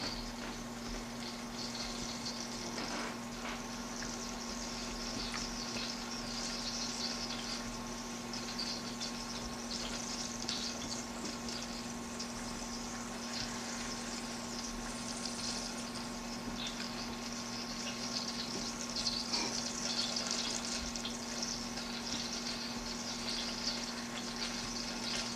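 Salmon patties fry in a pan on a stovetop turned down to medium, giving a steady, quiet sizzle with a low constant hum beneath and occasional faint clicks.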